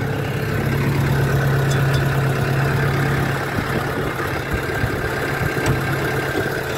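A Case JX55C tractor engine idles steadily at close range, a continuous low mechanical rumble with a faint hum and occasional small knocks, no voices.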